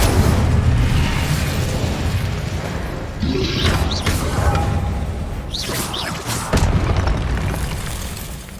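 Incendio fire spell cast in Hogwarts Legacy: deep booming fiery blasts roll out in a run of heavy bursts with whooshing flares, loud and close, repeating over several seconds.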